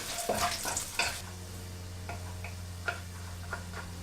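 Small pork bits frying in a pan with a quiet, steady sizzle under a low hum, broken by a few sharp clicks and scrapes of a utensil stirring against the metal.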